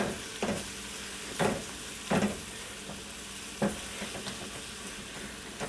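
Cauliflower rice fries gently in a pan over low heat with a faint, steady sizzle. A spatula stirs and scrapes it in four or five distinct strokes, and no one speaks.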